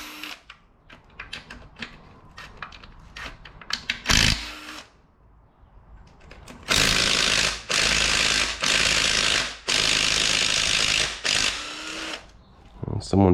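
A tight bolt being loosened with a ratchet on an Audi 2.0T TFSI engine, heard as a loud buzzing ratchet that runs in several long bursts, with sharp clicks and metallic clanks and talk between them.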